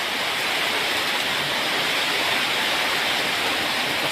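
Heavy rain pours down in a dense, unbroken hiss, loud and close, steady throughout with no voices.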